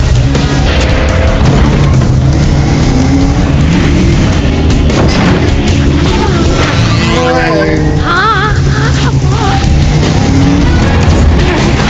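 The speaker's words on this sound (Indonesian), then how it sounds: "Setelah menyetir dengan ugal-ugalan, ngepot sana ngepot sini, mereka akhirnya bisa lepas dari kejaran si gangster." Car chase with reckless drifting and swerving in a thriller film: loud continuous engine roar and tire noise with booming impacts, mixed under dense score, with brief squealing tones near the end.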